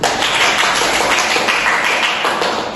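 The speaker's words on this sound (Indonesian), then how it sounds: "Oke, tepuk tangan dulu" Dense applause from a classroom audience after a micro-teaching presentation on globalisation, a steady wash of many hands clapping at once, loud and continuous for the short stretch.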